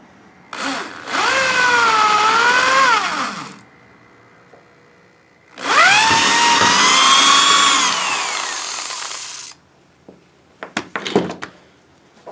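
A power drill with a regular bit boring into concrete runs in two sustained bursts of whining, grinding drilling separated by a pause, close and loud, then a few clunks as it stops.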